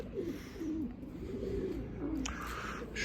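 Breeding pigeons in a loft cooing in several low, throaty rolling phrases, close and clear, with faint rustling and a brief sharp scrape near the end.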